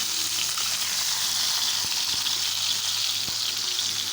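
Tomatoes for chutney fry in a hot pan with a steady, loud, close sizzle that runs unbroken throughout, with a few faint stirring knocks and no talking.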